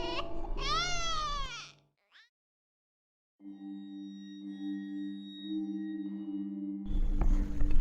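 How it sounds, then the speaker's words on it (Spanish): An inconsolable infant wails in a few rising and falling cries, then breaks off into near silence before low steady droning tones and a final burst of noise. "si escuchas el llanto de un bebé desconsolado dentro del agua"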